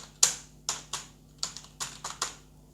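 Someone types on a computer keyboard while filling in an online college admission form, producing about eight crisp, separate keystrokes in an uneven rhythm, close and alone, with no talking.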